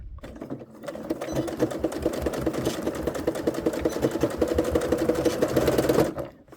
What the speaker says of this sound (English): we're going to back stitch really well at the beginning